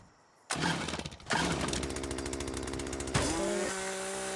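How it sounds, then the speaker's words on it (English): A chainsaw in the Yeeps video game roars to life after a short pause, cutting out briefly before snarling steadily on, then dropping to a lower idle. "Let me see what the chainsaw does."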